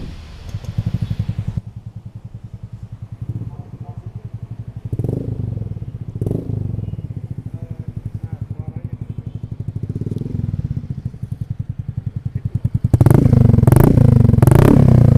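A Yamaha Fazzio Hybrid scooter fitted with a locally made aftermarket exhaust idles with a steady, deep burbling note, blips a few times, then revs hard and loud near the end while people talk nearby.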